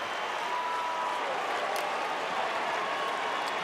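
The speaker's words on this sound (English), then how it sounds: "Listen to this crowd." Baseball stadium crowd at a Giants versus Angels game roaring and applauding after a go-ahead base hit, a dense, continuous, far-off wash of cheering with no talk.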